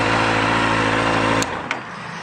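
A 2016 Kawasaki Z800 motorcycle engine runs loud and close with a steady high rev for over a second, then cuts off abruptly, leaving a brief faint click and low idle.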